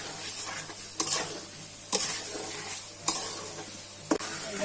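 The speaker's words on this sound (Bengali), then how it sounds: "এখন তরকারিটা মশলার সাথে কষানো হয়ে যায়।" Boiled potatoes and tomato being stir-fried with spice masala for a fish bhuna, a steady sizzle broken by four regular scraping strokes of a spatula about once a second, close and moderately loud.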